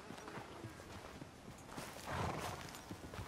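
A horse walks at an easy pace in Red Dead Redemption 2, its hooves clip-clopping in a steady, moderately close rhythm over a soft ambient background, with a slightly louder swell partway through.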